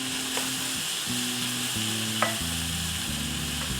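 Chopped onions, tomato, green chillies and salt sizzle steadily as they are sautéed and stirred in a pan, with a few brief scrapes from the spoon over the continuous frying hiss.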